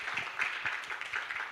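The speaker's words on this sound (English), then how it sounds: "So please give a round of applause to Yao Levy" Audience applause at a business talk, a light scattered patter of clapping from a modest crowd, with rhythmic bursts from a few nearby clappers and no talking.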